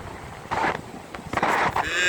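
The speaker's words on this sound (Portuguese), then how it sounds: "Olha o barulho do vento, olha o barulho do mar." Strong wind on a beach, heard while cycling by the sea, buffets the microphone in loud gusty bursts over the rushing wash of sea waves, with no clear words.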